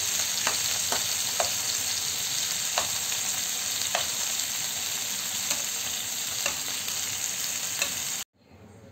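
Paneer sizzles steadily in a hot pan while being fried for biryani, a dense continuous frying hiss with occasional sharp stirring clicks, close and loud, ending abruptly near the close.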